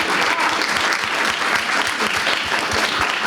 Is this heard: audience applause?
yes